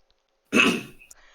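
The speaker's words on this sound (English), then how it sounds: "Sometimes my mic cuts out and I have to cough really loudly to get it working again" A single loud, harsh cough bursts out close to a microphone after near silence, then trails off with a faint breathy tail.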